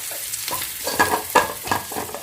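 Raw spiced potato samosa filling tipped into a hot pan and turned over, giving a few soft scraping stirs over a low, steady sizzle, close and alone without talk.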